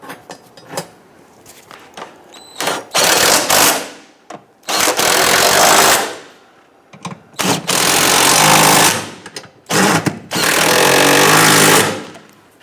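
Power impact tool tightening transmission mount nuts on a 2011-2021 Jeep Grand Cherokee 3.6L V6, several loud bursts of harsh rattling hammering separated by short pauses, close by.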